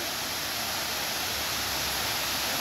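A waterfall pouring over rocks, heard as a dense, steady rushing roar that fills the whole clip evenly, close and loud, with no voices.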